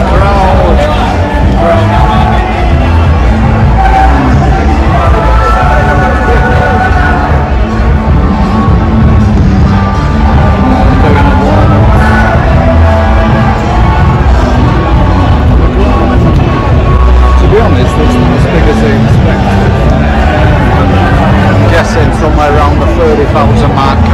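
A crowd filling a stadium in Medellín, Colombia, a loud constant babble of many voices with scattered shouts and whoops, close and unbroken, with nearby talk mixed in.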